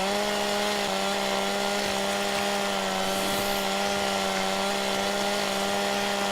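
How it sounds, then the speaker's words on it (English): A chainsaw cuts trees in a forest in the video game Farming Simulator 17, its loud steady engine drone holding a constant pitch throughout with slight dips as it bites. "doing this forest with a chainsaw"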